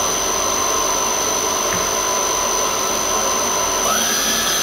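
Star SR16 CNC Swiss-type lathe with a synchronous rotary guide bushing runs at a steady, loud whine with a constant machine hum throughout, with a brief tonal shift near the end and no talking.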